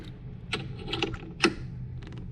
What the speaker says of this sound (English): And we'll torque these until they stop moving.